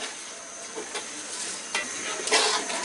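Nazirshail rice and meat are stir-fried in a pot for letka khichuri, with a steady sizzle broken by scraping spoon strokes that come roughly once a second, the loudest near the end, close up and with no talking.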